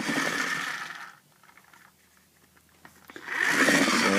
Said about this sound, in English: And this thing does have a bit of a rev up